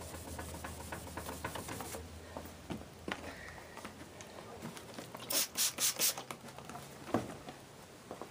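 Plastic car headlight being sanded by hand, a soft scratchy rubbing that runs throughout, then a run of five louder back-and-forth strokes near the end.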